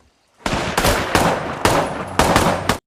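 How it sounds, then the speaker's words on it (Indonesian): Rapid bursts of automatic gunfire in a video game, five or six loud cracks close together in quick succession, each with a short rattling tail, near and punchy with no speech. "tiba-tiba cucu Lorenzo menembak Robert"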